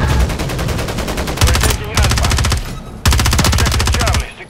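Loud, rapid automatic gunfire from a Call of Duty: Modern Warfare 3 multiplayer match, fired in three long bursts separated by brief gaps.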